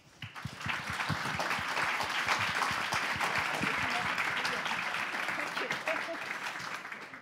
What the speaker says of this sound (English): So please give a round of applause to our panelists.